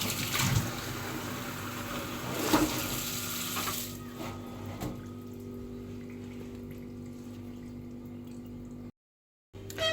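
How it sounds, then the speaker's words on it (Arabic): Tap water runs steadily from a kitchen faucet onto fish in a bowl, a close, continuous splashing gush that is fuller at first, then settles and briefly cuts out near the end. "بس احط عليه ميه واسيبه"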